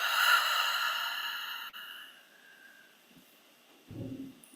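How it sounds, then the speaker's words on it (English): A long, slow exhaled breath taken during a guided meditation, a soft airy sigh that fades out gradually, followed near the end by a brief low breathy sound. "And a long, slow breath out."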